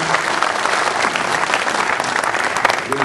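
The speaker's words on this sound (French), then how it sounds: "Alors on peut l'applaudir très fort, Georges." Steady, enthusiastic applause from a crowd at the presentation of a cycling event, dense clapping lasting throughout without pause.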